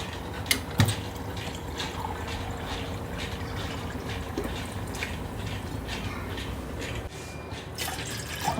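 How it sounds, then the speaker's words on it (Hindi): Water from a container goes into a pot for Maggi noodles in a home kitchen with a steady, continuous splash and trickle, nearby and moderately loud. There are a couple of small clinks and no speech. "तो सबसे पहले हम डालेंगे इसमें 2 कप पानी।"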